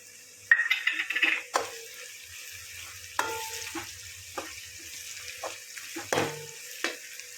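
Green chillies go into onions frying in a pan for moong pulao and kadhi. A soft sizzle sits under sharp metallic clinks and scrapes of a spoon stirring against the pan.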